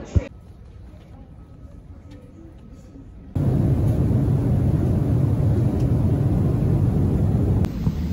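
Cabin noise on an airliner waiting to take off: a quiet hum at first, then a sudden jump to a loud, steady, broadband engine roar that fills the rest of the stretch.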